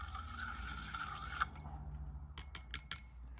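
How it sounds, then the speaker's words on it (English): Water runs steadily over a BENU water filter cartridge being rinsed with clean water, then stops and gives way to a few separate drips and small clinks. "I'm just going to give it a clean rinse with some clean water"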